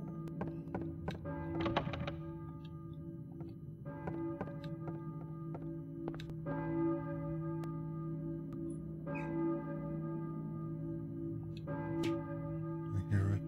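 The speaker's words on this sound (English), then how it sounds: "Church bell, maybe. Who's ringing the bell?" A church bell tolls in the PS1 game Silent Hill, struck again every couple of seconds, with each ring hanging on over a steady low droning background.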